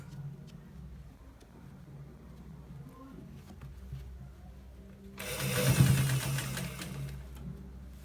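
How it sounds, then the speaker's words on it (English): A sewing machine stitching a designer shirt with buttons: a quiet stretch of faint handling noise, then a loud rapid whirring run of stitches that swells and continues to the end. "So guys, let's do stitch it."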